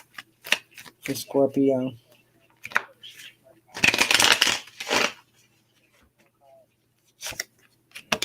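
Tarot cards are shuffled in short, crisp riffling bursts, close by, between stretches of a voice talking.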